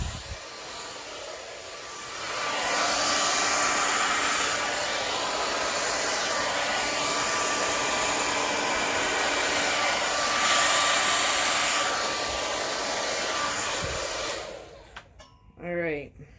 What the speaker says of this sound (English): I'm gonna bring around the hair dryer and let's see what we can create.